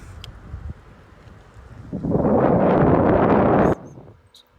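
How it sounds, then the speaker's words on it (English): Strong wind gusts coming off a mountain roar across the microphone while cycling downhill, building into a loud, rushing blast for a couple of seconds before cutting off abruptly. "Gusts coming off the mountain are just huge."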